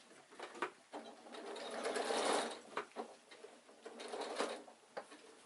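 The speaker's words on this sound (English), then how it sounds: "sew down all the way down your side seam." A sewing machine stitches down the side seam of an insulated picnic bag, running in steady bursts of needle chatter with short pauses between, fairly quiet and close with no talking.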